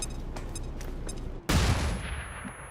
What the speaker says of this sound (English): Well, we'll throw a grenade at them.